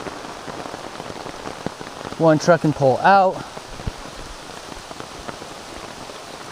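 Steady rain patters on an umbrella along the Appalachian Trail, a constant close hiss of drops throughout while a person speaks briefly in the middle.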